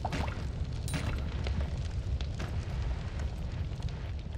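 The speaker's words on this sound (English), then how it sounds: "Stuff is still blowing up." Explosions from bombs and an oil drum in the action roguelike game Noita: a dense, continuous roar of booms and fiery crackling with sharp bursts throughout, loud and unbroken with no talk.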